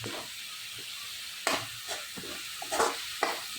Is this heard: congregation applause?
no